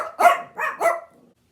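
A dog barks three times in quick succession, close and fairly loud, followed by a short low trailing growl before silence.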